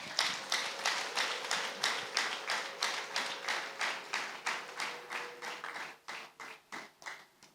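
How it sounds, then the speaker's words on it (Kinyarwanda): A church congregation claps in a steady, even rhythm, roughly three claps per second, over a sustained high-pitched ululation, the sound loud and close before thinning out toward the end. "Ab'Imana yarinze twese ndagira ngo twayiha amashyi n'impundu."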